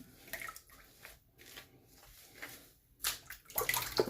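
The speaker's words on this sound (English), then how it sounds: "let's get some of this coffee water and rinse it off" Gillette Slim Adjustable safety razor being rinsed with water, a series of close splashes and sloshes in irregular bursts, quiet at first and growing louder and busier toward the end.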